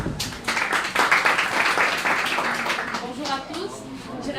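An audience applauds a candidate at a school contest show, with steady, dense clapping that holds throughout and rises early before easing slightly toward the end.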